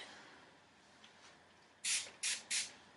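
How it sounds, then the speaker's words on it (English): Three quick, close hissing sprays from a spray bottle of curly-hair product in rapid succession, following a quiet stretch of faint room noise. "So then I spray this stuff"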